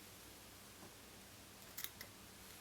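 Scissors snip fly-tying thread while a floating mayfly nymph is being tied, two or three quick, faint close cuts in a quiet room.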